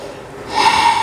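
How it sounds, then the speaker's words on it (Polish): Strong, noisy breathing during a fire vinyasa yoga practice: a loud, close, rushing exhale swells midway and holds, airy and hissing, with no talking. "Szumiący, mocny oddech powoli uspokaja się w ciele."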